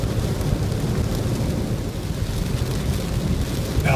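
Steady rain pours down during a February ride home through the redwoods south of Eureka, a dense, continuous wash of noise with a low rumble beneath it and no talking.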